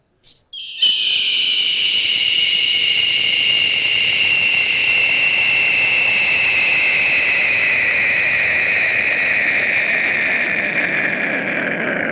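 A person imitates a modern airplane taking off on a Tamil comedy show, building after a brief start into a loud, sustained whistling jet roar that holds steady for over ten seconds.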